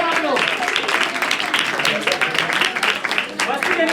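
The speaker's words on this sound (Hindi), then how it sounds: "ताली बजा रहे भाई आप लोग" An audience at a stage program claps steadily in a lively, continuous patter while a person talks over the applause.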